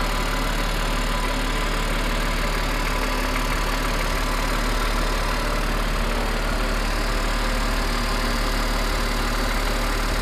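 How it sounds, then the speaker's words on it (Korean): A BMW X3 M (G01) 3.0 Competition SUV idles at a steady, even pitch, a loud, continuous engine hum without speech. "엔진 소리 일정합니다."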